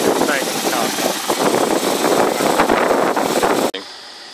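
Mitsubishi Triton engine running steadily during EGR carbon cleaning of the intake, a loud continuous mechanical rumble and hiss that cuts off abruptly near the end.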